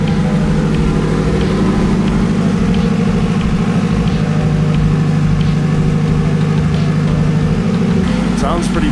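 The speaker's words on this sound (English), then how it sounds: "Thing is purring." A Honda Accord wagon engine idles steadily at close range, a loud, even low rumble that holds throughout with no talking.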